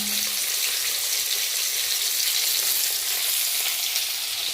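Pieces of pumpkin and ridge gourd sizzle in a pan of hot oil, a constant, even hiss close by with no voices.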